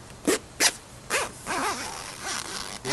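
The fine-toothed zipper on a 2004 Jeep Wrangler soft top is pulled in several quick, close zips, followed by a longer, rougher drawn-out pull.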